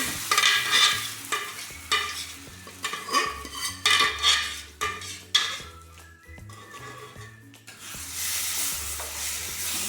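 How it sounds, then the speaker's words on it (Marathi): Amaranth leaves being stir-fried in a pan for a jowar-flour dish, with repeated scraping strokes of a spoon against metal over steady sizzling and brief clinks, close and fairly loud throughout. "छान असं परतून घेऊ."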